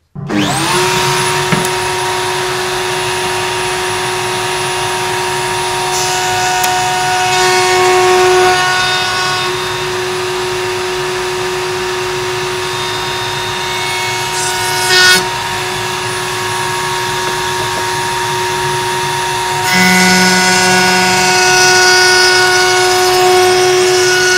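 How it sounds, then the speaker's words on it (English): A steady high-pitched router whine runs continuously, loud and close, with slight shifts in pitch and a brief surge partway through, as a router table rounds over wooden block edges. "I put them over a router table to round over the edges, just the corners"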